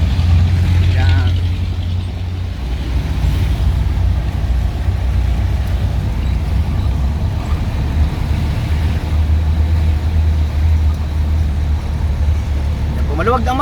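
Road traffic of tricycles, motorcycles and cars on a wide main road, a loud continuous engine rumble with idling and passing vehicles, heavy and close the whole time while people talk over it.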